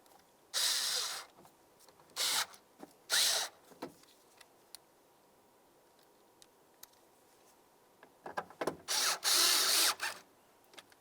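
A ratchet snugs up 5.5mm mounting bolts on a power window regulator in a 2003-2011 Mercury Grand Marquis door, in short bursts of clicking, near and loud, separated by quiet pauses and small handling noises.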